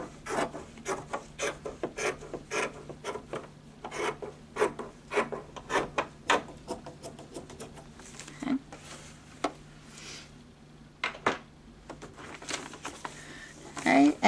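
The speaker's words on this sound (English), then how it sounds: "I can use a rotary cutter or just hand cut this about 1/4 of an inch from this line" Fabric being hand cut with scissors for paper piecing quilting, giving a run of crisp, close snips and rasping cuts in irregular bursts, with quieter pauses between.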